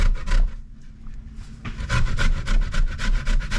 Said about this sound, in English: this part here is usually what I would use if I'm grating. And you get a very good shred